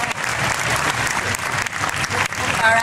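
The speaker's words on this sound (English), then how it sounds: "Round of applause, everybody." Loud, dense crowd applause at a convention cosplay contest, continuous throughout with a voice briefly audible over it.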